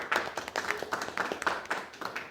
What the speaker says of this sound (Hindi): इस विश्वास पे एक बार तालियां बजनी चाहिए।